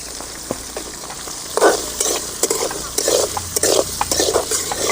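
Green chillies and garlic stir-fry in a pan for a spicy small-onion curry, with a steady sizzle broken by repeated scraping strokes of a spatula against the metal.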